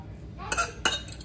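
Slow cooker pulled chicken being shredded, with a couple of sharp utensil scrapes and clinks against the pot over a quiet background.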